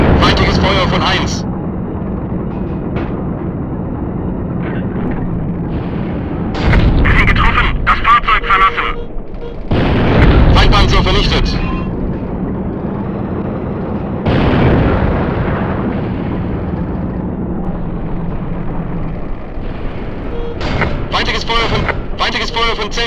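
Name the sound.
tank cannon fire in the video game Panzer Front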